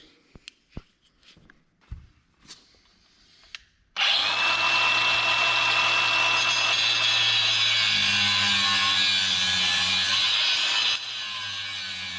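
A power tool cuts down the steel steering knuckles of a Nissan 370Z during an angle kit install, starting after a few clanks and handling noises and then grinding loudly and continuously for several seconds before easing slightly.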